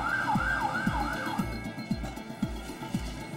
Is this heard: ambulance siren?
yes